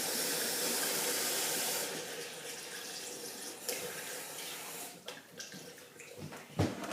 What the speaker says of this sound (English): I go and get some very cold water from the tap